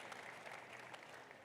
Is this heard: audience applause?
yes